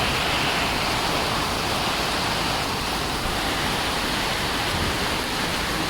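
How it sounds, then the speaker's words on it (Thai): Heavy rain pours down in a dense, continuous roar of broadband hiss, loud and unbroken throughout, with no voices. "ฝนตกอย่างแรงเลยตอนนี้"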